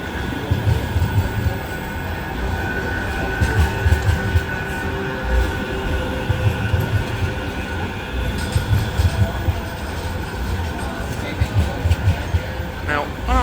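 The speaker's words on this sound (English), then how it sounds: "try and get out of the way of the tram before it runs me over" A Manchester Metrolink tram rumbles past close by with a heavy rolling drone, rattling wheels and a brief metallic squeal, amid busy street noise.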